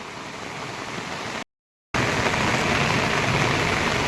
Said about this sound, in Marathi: इकडे बघा कसा पावसाचा जोर हळूहळू वाढतोय